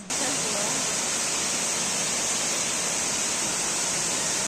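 A waterfall near Munnar, in Kerala, roars in a steady, dense rush of white water that stays loud and unbroken throughout, with no clear voices over it.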